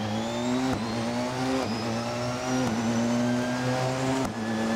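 A race car engine in a racing video game, driven with a 3D-printed magnetic paddle shifter, revs high and steady, with a quick upshift dropping the pitch about every second, loud and without talk.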